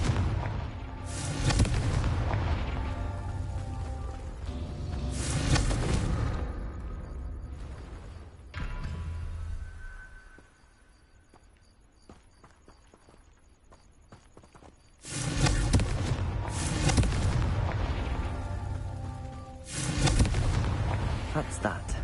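Fiery Confringo spell blasts in Hogwarts Legacy, heavy booming bursts repeating in rhythm, with a quieter lull in the middle before more loud explosions resume.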